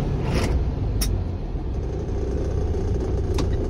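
Class A truck engine rumbling steadily in the cab during a downshift to fifth gear, a continuous low drone close by with faint clicks and ticks on top, no talk.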